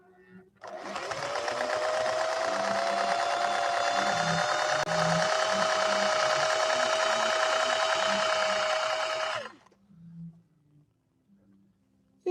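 A 1961 Singer 401A sewing machine stitches a scallop pattern in one steady, loud, whirring run of about nine seconds that then stops, with faint talk underneath.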